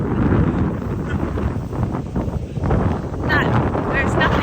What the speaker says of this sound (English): I'm not sure how much you can hear because it's really windy.